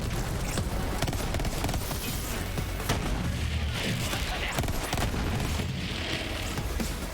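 A cannon fired in Borderlands 3, with heavy booming blasts and rapid shots pounding repeatedly throughout, loud and dense, mixed with general combat noise.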